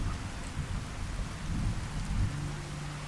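Steady rain in the video game Fallout 4 pours with a low rumbling undertone like distant thunder, continuous and fairly loud, with no talking.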